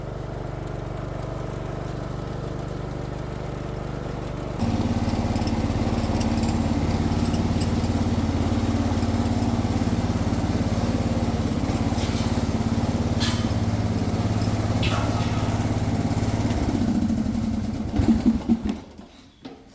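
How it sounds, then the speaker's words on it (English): A small yard tractor engine runs steadily, revving up partway through and chugging along at a constant drone before cutting off at the end. "I really love this little tractor."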